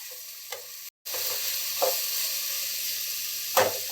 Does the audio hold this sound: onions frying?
yes